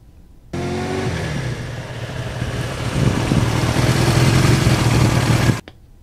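A heavy Suzuki GS1100E motorcycle engine rumbles steadily and loudly up close while riding on back roads, its low drone swelling slightly midway before cutting off abruptly.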